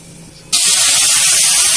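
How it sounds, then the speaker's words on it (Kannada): After a quiet start, a sudden loud sizzling hiss erupts as a milk and water mix hits a hot pan of vermicelli for payasa and keeps steaming steadily. "ಇದಕ್ಕೆ ನಾನು ಹಾಲು ಮತ್ತೆ ನೀರು ಮಿಕ್ಸ್ ಮಾಡಿದ್ದೀನಲ್ಲ ಅದನ್ನ ಹಾಕೊಳ್ತೀನಿ"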